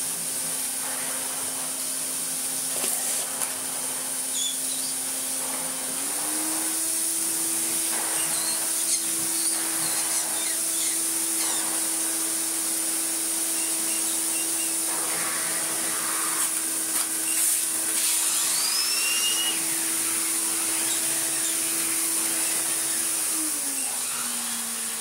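A vintage Electrolux Sup'Air Z237 vacuum cleaner runs continuously with a steady high whine and airy rush, its motor pitch rising slightly after a few seconds and dropping again near the end, loud and close with no voices.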